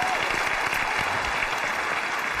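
Studio audience applause on a Chinese job-seeking TV show, a steady, even wash of clapping holding at full level for the whole stretch, with no voices standing out.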